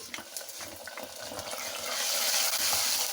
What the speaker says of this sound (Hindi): इसको भी हल्की आंच पे 1 मिनट के लिए भूनेंगे।